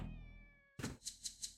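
A domestic cat meows nearby, one loud meow followed by a few quieter rhythmic calls, after a fading sustained tone.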